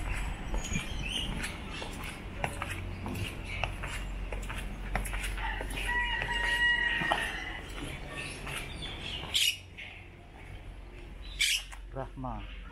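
Chickens cluck and call near a fish pond in Deli Serdang, short bird sounds scattered under people talking nearby.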